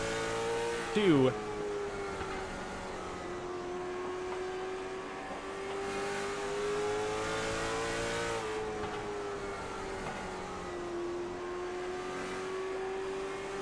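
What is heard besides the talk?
race car engine revving at Oxford Plains Speedway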